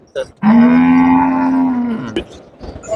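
A cow at a livestock market gives one long, loud, close-up moo lasting well over a second, with brief faint noises before and after.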